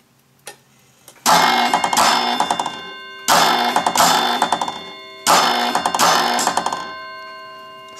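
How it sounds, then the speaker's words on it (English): A Chelsea automatic ship's bell clock with a large bell strikes six bells at three o'clock. The loud, close metallic strikes ring out in three evenly spaced pairs, and each tone rings on between pairs. "And then to go on to 3 o'clock, I should now have 6 bells."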